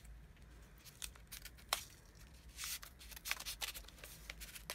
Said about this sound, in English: I'm just gonna have to sort of pull the paper off.